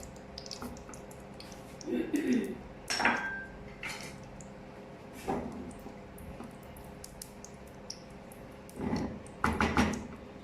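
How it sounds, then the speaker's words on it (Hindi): Kitchen clatter of a cooking pan being handled and set on the stove as oil goes in, with scattered clinks and a soft pour, moderately close, amid quiet room noise before frying marinated chicken. "अभी पैन में मैं डालूंगी ऑयल"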